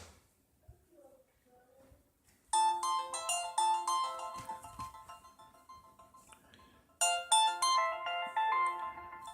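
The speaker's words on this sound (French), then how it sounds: "Je vais vous faire écouter la sonnerie." A Cube WP10 tablet running Windows 10 Mobile plays its ringtone, a bright melodic chime that starts after a quiet lead-in, rings loudly for several seconds, dips, then repeats, with faint talk and handling noise at the start.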